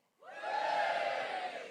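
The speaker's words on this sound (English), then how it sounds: "I want a big cheer." An audience at an Edinburgh Fringe 2014 comedy podcast recording bursts into a loud, sustained cheer and whoops, rising sharply and holding steady without any talk.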